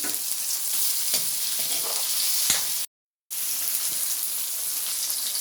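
Ginger, garlic and onion frying in a pan for a mung bean dish, a dense, loud, steady hiss of oil that cuts out briefly before resuming, close and with no talk.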